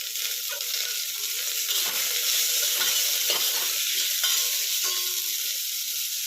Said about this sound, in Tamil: காஞ்ச மிளகா நல்லா வறுபடட்டும்.